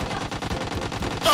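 Automatic gunfire in the mobile battle royale game PUBG Mobile, rapid bursts of shots firing continuously and fairly loud throughout, with a sharper sound near the end.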